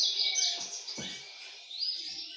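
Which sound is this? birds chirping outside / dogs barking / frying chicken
birds chirping outside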